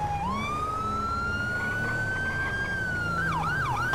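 An ambulance siren in a video game, a loud continuous wail rising slowly in pitch before switching into a fast yelp pattern, heard alone without talk.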